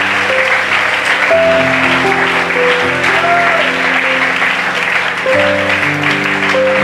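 Loud congregational clapping in a church service, a dense wash of hands under sustained keyboard chords, continuing steadily with no speech over it.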